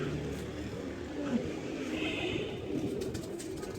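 A pigeon perched up on a roof pecking at grain, with soft cooing faintly heard through a steady, broad hiss that sounds like rain.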